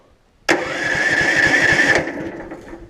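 A Power Fist 420cc engine on a Case 700 tractor project fires up abruptly, roaring loud and close for about a second and a half before dropping back, with no talking.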